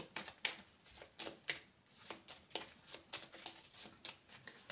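Oracle cards handled and laid over one another on a table, a run of quick papery slaps and sliding rustles in an irregular rhythm, close and quiet.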